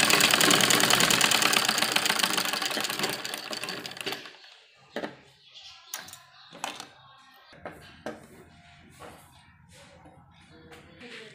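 A sewing machine stitches along the edge of a baby dress, running steadily for a few seconds, then sewing in short stop-start bursts with soft handling noises between them.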